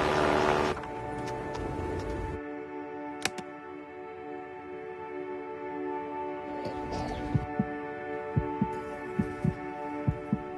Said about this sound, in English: This song was created with heartbeats of children in need.